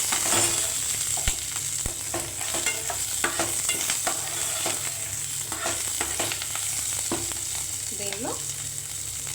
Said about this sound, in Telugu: కరివేపాకు కూడా వేసేస్తానండి